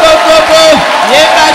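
A church crowd shouts a loud, brief acclamation to the Lord, a mass of raised voices with swooping cries close up.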